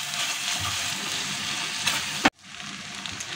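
Cauliflower masala with Kashmiri chilli powder sizzles steadily in a pan, a close, dense frying hiss with a brief louder scrape before it drops and resumes more quietly.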